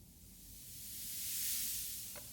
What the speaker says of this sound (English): So you've got this constant white noise sweep in the background